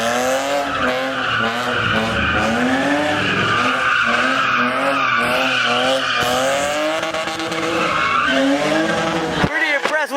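A BMW skids at a street car meet, its tires squealing in long rising and falling wails over a roaring engine, loud and sustained, with a crowd's voices in the background.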